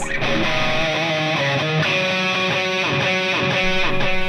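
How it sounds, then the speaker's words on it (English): Electric guitar through a big delay placed before preamp distortion: heavy, smeared distortion, sustained notes blurring into dense repeating echoes that pile up into a thick wash. "If you run a big delay right before the preamp distortion, you get something that sounds like this"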